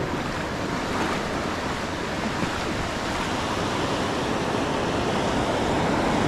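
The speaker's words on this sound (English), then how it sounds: "We got a set coming in. So waves always come in sets for anybody who's not aware." Ocean surf rolls in as a set of waves breaks on the beach at Carlsbad, a loud, continuous wash of broadband roar mixed with wind buffeting the microphone, with no voices.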